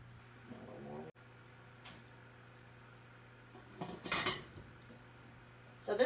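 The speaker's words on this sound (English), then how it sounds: "I'm just going to set these over here in the canner" Glass jars for honey-sweetened strawberry jam are set down into a canner, with a couple of clinking clatters near the end over a faint steady hum.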